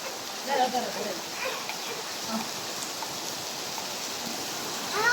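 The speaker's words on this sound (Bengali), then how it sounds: "ভালো বৃষ্টি হইতেছে কিন্তু এখন।" Steady rain falls in an even, soft hiss that holds through the whole stretch, fairly faint and continuous, with a slight swell near the end.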